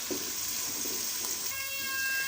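Finely chopped onion frying in ghee in a pan, a steady hiss of sizzling with soft stirring bumps, close and continuous, with a thin high whine joining near the end.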